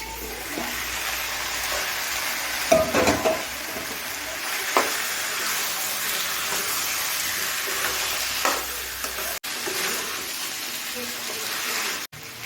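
Marinated chicken pieces and cut potatoes sizzle and fry steadily in a pan for a coconut chicken curry, with a loud, continuous hiss and occasional stirring clatter.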